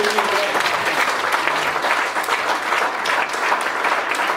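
Sustained applause from an audience at a marriage preparation workshop in Cameroon, a steady wash of many hands clapping at close range for several seconds with a few voices mixed in.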